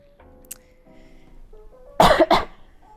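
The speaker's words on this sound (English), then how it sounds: "have no idea where the coughing came from." Two sharp coughs in quick succession, loud and close, after a stretch of faint background tones.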